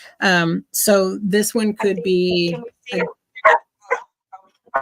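A dog barks in short bursts close to the microphone in the second half, after a stretch of continuous speech from a person talking over a call.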